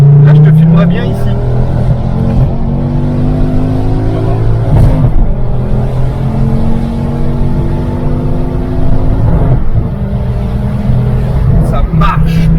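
A Ford Focus ST engine revving hard and accelerating from inside the car, loud rising and falling pulls through gear changes, with someone talking over the engine noise.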